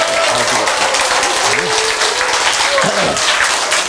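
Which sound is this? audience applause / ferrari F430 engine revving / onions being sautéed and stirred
audience applause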